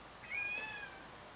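A cat gives a single faint, drawn-out meow over a steady background hiss, with no talking.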